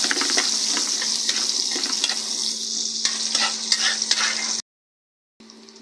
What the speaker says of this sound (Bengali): অল্প একটু পেঁয়াজ কুচি এটা একটু ভাজা হোক